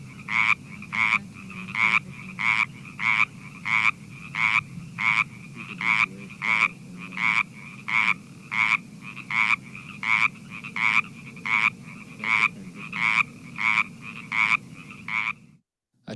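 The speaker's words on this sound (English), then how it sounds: "Pacific chorus frogs make a variety of other calls, including an enhanced mate attraction call, which is a one-part call repeated rapidly," A Pacific chorus frog gives its enhanced mate attraction call, a single-part note repeated rapidly and evenly about sixteen times, loud and close, over a low murmur, ending abruptly.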